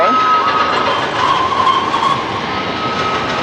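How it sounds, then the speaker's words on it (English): A train at Disneyland Paris runs past at Christmas time with a steady rumbling roll and a faint high metallic whine, loud and close throughout. "Train's going round."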